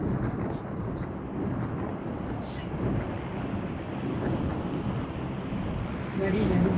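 Boat engine in the mobile game BGMI, a steady rushing, roaring drone of motor and water noise that runs without a break, with faint voices underneath.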